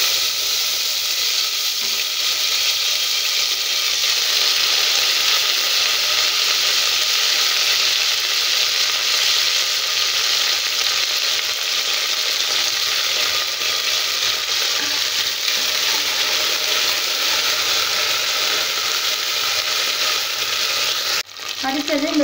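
Coriander and mint leaves fry in a pan for mushroom biryani, a loud, dense, continuous sizzle that holds steady for about twenty seconds before a brief break near the end, with no talk over it.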